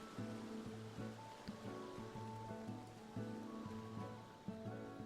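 Steady rushing water from a waterfall beside a house in Final Fantasy, a faint continuous ambience layered under soft repeating musical tones in a looping game soundtrack.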